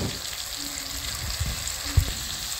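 Chicken sizzling in a pan as sour yogurt is added, a steady low crackle of frying with a brief louder splash of liquid hitting the hot pan near the end.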